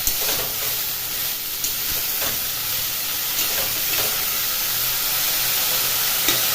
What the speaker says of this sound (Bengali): এভাবে ব্রোকিউলটা ছড়িয়ে দেব কড়াইতে তাহলে তাড়াতাড়ি ভাজা হবে